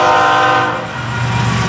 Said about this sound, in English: Double stack train here.